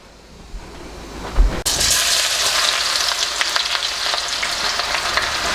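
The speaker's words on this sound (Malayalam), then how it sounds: "ഇനി ഇതിലേക്ക് നമുക്ക് ഇഞ്ചിയും വെളുത്തുള്ളിയും സവോളയും ചേർക്കാം." Ginger, garlic and onion go into hot oil with mustard seeds in a pan for kadala curry, and a sudden loud burst of sizzling and crackling frying follows, continuing steadily and close up, with no one talking.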